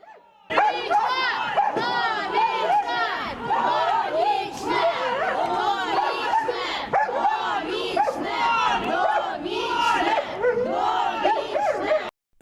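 Crowd outside a Ukrainian courthouse shouting rival chants, "life sentence" from one side and "freedom" from the other, as a murder defendant is led away; loud, dense, continuous massed yelling and chanting for the whole stretch.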